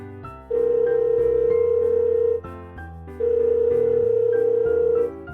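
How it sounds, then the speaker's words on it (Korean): A telephone ringing with an incoming call, two long steady electronic tones separated by a short gap, loud and close over a soft musical background. "미경이에게서 전화가 왔습니다."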